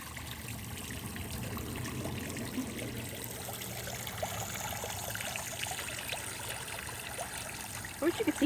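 Water trickles gently in a backyard fish pond, a soft continuous burbling and splashing heard close and fairly quiet, with a few louder splashes near the end.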